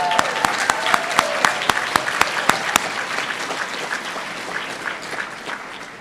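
Applause from an audience at a school graduation ceremony, a crowd clapping steadily with a few sharp individual claps standing out and slowly thinning over several seconds.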